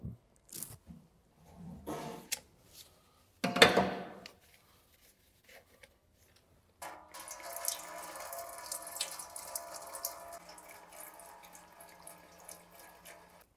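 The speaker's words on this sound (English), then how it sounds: "we can proceed to begin draining the oil" Transmission oil drains from the pan of an Audi S-Tronic 7-speed automatic gearbox, starting as a few scattered drips and splashes, then becoming a steady trickling pour from about the middle of the clip onward.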